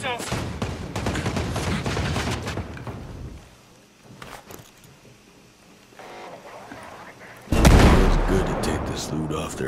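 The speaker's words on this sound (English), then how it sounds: "Firing on hostiles!" Loud bursts of automatic gunfire aimed at hostiles in the Ghost Recon Breakpoint video game, dense rapid volleys at the start, a quieter lull, then a sharp, heavy burst near the end over game ambience.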